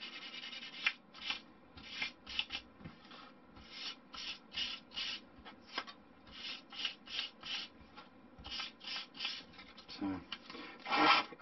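Sandpaper rasps on a balsa wood tail fin for a Micro Gentle Lady model glider, in quick, irregular strokes close up on a bench, each a dry scratchy burst; someone says a word near the end.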